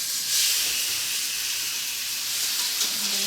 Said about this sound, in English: Now you're going to hear it sizzling, hopefully.